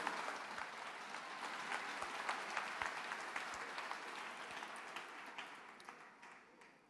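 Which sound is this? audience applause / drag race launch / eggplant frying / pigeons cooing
audience applause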